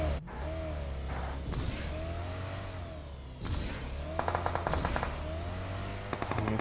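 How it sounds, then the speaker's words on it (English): Bursts of automatic gunfire crackle in PUBG Mobile during a competitive esports match, rapid rattling volleys over a steady vehicle engine drone, growing denser toward the end. "Here come the bullets flying all over the place as well"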